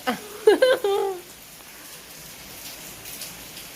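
Steady rain patters softly in the background, briefly overlaid by a child's high-pitched vocal sounds near the start.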